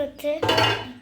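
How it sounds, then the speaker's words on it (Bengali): Plates, pots and cutlery clatter together while dishes are washed by hand, a close, loud burst of ringing clinks and scraping ceramic and metal with no talk. "এই যে বন্ধুরা থালা বাসন ধুয়ে নিচ্ছি।"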